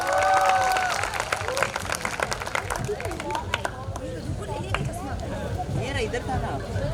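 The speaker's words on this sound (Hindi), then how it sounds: "गाइस, तालियों के साथ प्रियांश का स्वागत किया जाए।" Stage audience clapping to welcome a performer named Priyansh at a live show, a dense burst of applause with crowd murmur and scattered voices running throughout.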